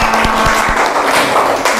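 Brief applause from a classroom of students after a group's presentation, a dense wash of clapping filling the short span with a few sharper low thumps near the start.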